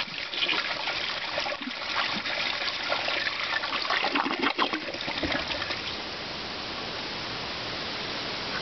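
A toilet flushes with a rushing gurgle of water that churns for several seconds, then settles into a softer steady trickle as the tank refills.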